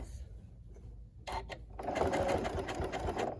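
A Janome Continental M7 sewing machine runs its stitching motor in a soft, steady whir after a few brief mechanical clicks as it pivots, fairly close and quiet, with no talking.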